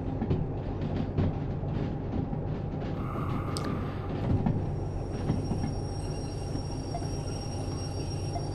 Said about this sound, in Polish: Żeby lecieć na dwie lokomotywy odpalone.